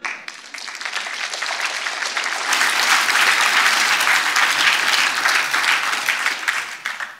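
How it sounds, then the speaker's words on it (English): Warm, sustained applause from a festival audience after a philosophy talk, building in the middle, holding steady and fading slightly at the end. "I hope you could pick up some of the applause."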